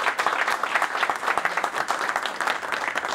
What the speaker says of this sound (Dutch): Applaus, mag best wel.